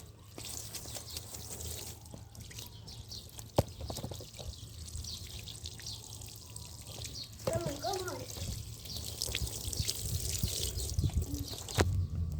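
Fabric is washed by hand in hot water, with soft sloshing, dripping and trickling close by at low level, a few clunks and a voice now and then.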